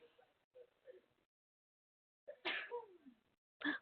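A sharp, sudden sneeze bursts out after a few quiet seconds, with softer breathy sounds around it and brief murmuring beforehand.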